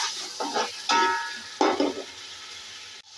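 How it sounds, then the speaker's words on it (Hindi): Garlic-ginger paste fries in oil alongside browned onion for an aloo biryani, giving a few bursts of bright sizzle and stirring scrapes across roughly three seconds, close and moderately loud, with no talking. "लहसुन अदरक हमने भून लिया है, लेकिन ऑयल बिल्कुल अलग हो गया है।"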